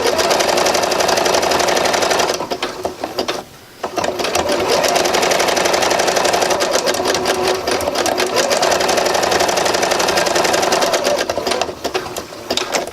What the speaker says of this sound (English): sew as close to the end of the seam as you can